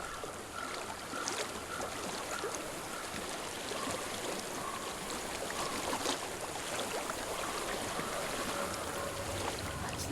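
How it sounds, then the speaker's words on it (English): Flowing stream water in the game Hellblade: Senua's Sacrifice, a soft steady trickling and rushing that runs continuously at low level. "I hear water. Go to it."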